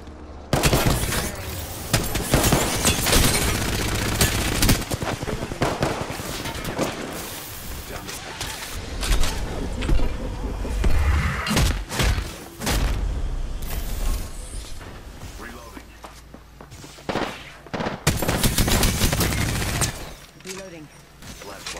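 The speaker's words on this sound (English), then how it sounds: "They spotted me. I'm taking shots." Apex Legends gunfight with dense, loud bursts of automatic weapon fire and impacts, nearly continuous with brief lulls, along with in-game voice lines.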